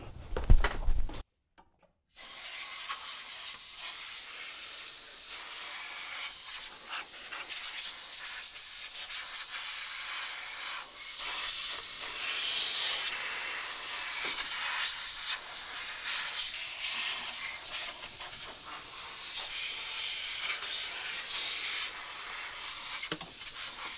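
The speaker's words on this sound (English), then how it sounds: "I'm gonna go get the air hose and blow off all this" An air hose blasts a steady, loud hiss of compressed air to blow acorns, leaves and debris off the engine of a 1987 Chevy R10 pickup, with a few brief bursts at the start and then one long continuous blow.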